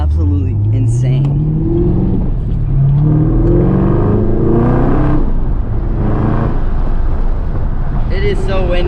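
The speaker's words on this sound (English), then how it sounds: "Brakes are amazing, and the pops and everything." A 2019 Camaro ZL1 1LE engine rises and falls through repeated revs, with rising pitch sweeps and sharp exhaust pops near the end. Heavy wind buffets the microphone throughout.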